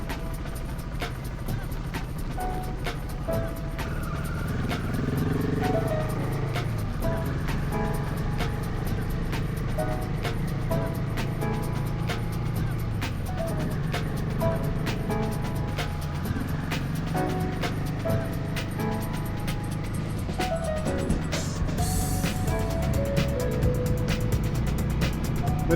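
A car drives steadily along a sandy gravel forest road, a continuous close engine and tyre rumble with crunching underneath that holds level throughout, with a brief brighter burst near the end.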